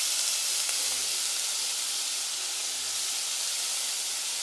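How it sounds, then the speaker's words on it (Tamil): Crushed garlic and curry leaves sauté in hot oil, giving a constant hissing sizzle, even and dense, close up with no pauses. "இப்போ கருவேப்பிலையும் பூண்டெல்லாம் நல்லா வதங்கட்டும்"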